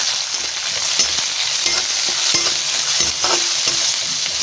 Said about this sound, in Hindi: पियाज और मर्च भल भाबरे भाजी गलानी